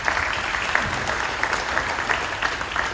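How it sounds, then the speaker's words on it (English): An audience applauds a panel at the Kohala Water Summit, a dense, steady patter of clapping hands sustained throughout with faint voices mixed in. "let's give it a round of applause for our panel one"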